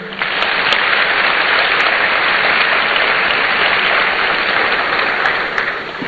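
A large audience claps steadily at a student entrepreneurship programme launch in honour of the Vice President, a dense, loud wash of applause that holds evenly for several seconds with no talk over it.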